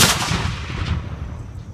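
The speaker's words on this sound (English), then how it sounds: "We use hand signals to fire the gun." A Civil War cannon fired at an encampment: one loud, close boom with a sharp crack at the start that rolls away into a fading rumble.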